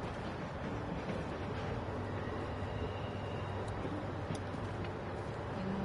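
Train running in The Walking Dead video game, a steady low rumble and rattle of rolling rail cars that holds loud and continuous throughout with faint ticking on top.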